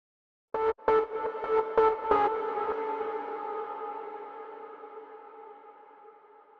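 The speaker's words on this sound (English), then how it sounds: "And then reverb." Reverb on a synth in a trance production: a few quick stabbed synth notes ring out, then a long, smooth reverb tail slowly fades over several seconds, with no voices over it.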